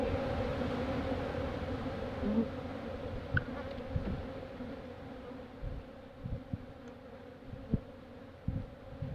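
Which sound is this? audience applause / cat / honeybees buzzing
honeybees buzzing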